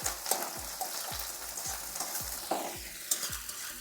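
Large-cut onions fry lightly in a pan with oil after garlic has been browned, a continuous close sizzle broken by regular soft thuds of stirring and a few sharper clinks.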